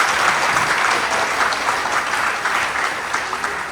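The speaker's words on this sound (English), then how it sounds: "Can we give her a nice round of applause" Audience at a live event gives a sustained round of applause, an even, full clapping texture throughout that eases slightly near the end.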